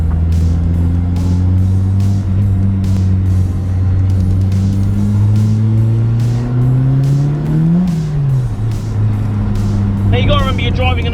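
An old Ford Escort RS1600i with a turbo engine drives hard, a loud droning engine note climbing and dipping as it comes on boost, with someone talking over it throughout.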